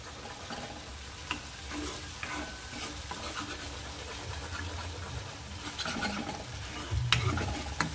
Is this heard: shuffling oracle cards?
no